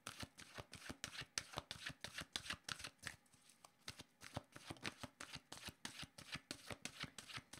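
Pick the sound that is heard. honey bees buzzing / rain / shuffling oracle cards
shuffling oracle cards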